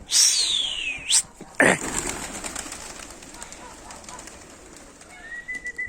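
Pigeons in a loft yard give a sharp flurry of calls and wing flaps early on, then softer scattered cooing and rustling continues at moderate distance.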